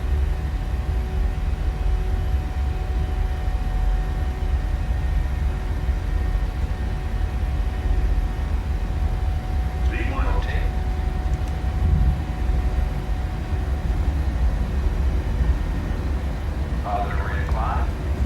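Jet airliner engines roar at takeoff thrust during the takeoff roll on a very short hop from Brazzaville to Kinshasa, a steady, loud broadband rumble throughout with brief, faint cockpit voices partway through.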